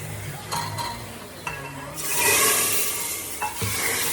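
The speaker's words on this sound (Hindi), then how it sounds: "ये तड़का लगा रही है सब्जी में।" A few clinks of utensils, then a sudden burst of hissing sizzle as spices hit hot oil to temper a vegetable dish, fading slightly while stirring continues.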